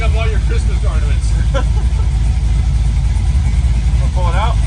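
A 1965 Chevrolet Nova engine idles rich at its first start-up, a steady low rumble running throughout while people talk over it.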